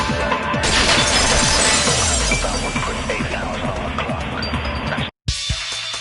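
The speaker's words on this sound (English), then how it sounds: "So the sound of breaking glass" Glass shatters in a loud crash as a sound effect, followed by a dense spray of tinkling shards raining down for several seconds, cut off briefly by a moment of silence near the end.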